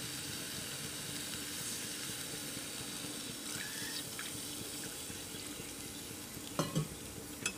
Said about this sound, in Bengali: দিয়ে এখন পানি অ্যাড করে দেব